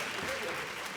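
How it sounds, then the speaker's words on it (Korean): Youth at a church youth service clap together in a brief, dense, even burst of applause, with voices mixed faintly into the crowd noise. "여러분은 좀 박수 좀 쳐주세요"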